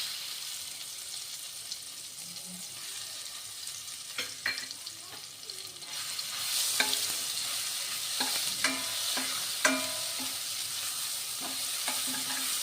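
Garlic and coconut sauté in hot oil in a pan, a close, steady sizzle broken by repeated scraping clicks of a stirring spoon.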